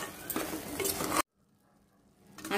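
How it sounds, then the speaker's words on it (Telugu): Turkey berry curry base with chilli powder being stirred in a pan, a busy scraping and clinking of a spoon against metal for about a second, then a sudden near-silence before soft stirring resumes. "తగినంత కారం వేసుకొని ఒకసారి అంతా బాగా మిక్స్ చేసుకోవాలి"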